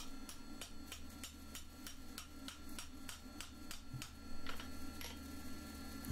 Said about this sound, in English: I'm just going to cool the tip out so I can hammer it on there.